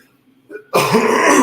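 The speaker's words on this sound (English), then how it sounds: "I'm going to start muting the mic before I cough in your ears" A single close cough bursts out after a brief quiet breath, loud and harsh, from a person painting a Halloween-themed picture.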